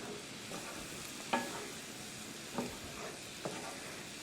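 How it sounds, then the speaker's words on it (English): A spoon stirs beef tenderloin stroganoff sauce in a pan over a soft, steady sizzle, with a few distinct scraping strokes against the pan bottom, close and fairly quiet. "We're gonna mix that all through and just make sure nothing is stuck to the bottom."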